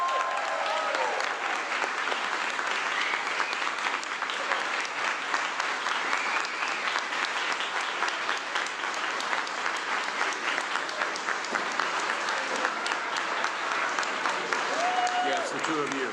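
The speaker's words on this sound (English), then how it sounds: "Let's give them a big round of applause." A crowd at a graduation ceremony for a class of 2023 gives sustained, even applause throughout, dense and steady, with occasional cheers mixed in.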